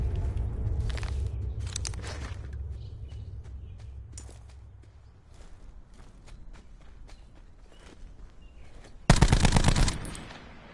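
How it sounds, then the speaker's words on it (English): Automatic gunfire in a Call of Duty: Black Ops 4 Blackout gunfight, scattered sharp bursts and single shots with footsteps between, ending in a loud close rapid burst. "This is such an awkward gunfight."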